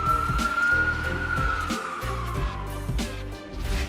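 An ambulance siren wails with a slowly sliding tone over rumbling traffic and low engine noise, fairly close, on a busy road.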